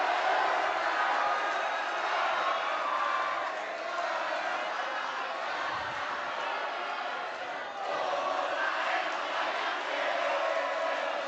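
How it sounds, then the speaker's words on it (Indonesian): Audience at a West Java gubernatorial election debate raising a loud, sustained roar of shouting, cheering and chanting with clapping mixed in, continuous for several seconds with slight dips, voices blended into one mass. "boleh mana teriakannya, tepuk tangannya, boleh yel-yelnya"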